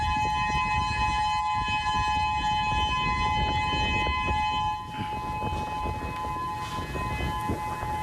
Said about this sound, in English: We have some video of the moment the sirens came down on Maui earlier this afternoon.